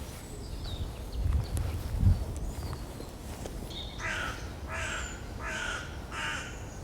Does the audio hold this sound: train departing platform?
no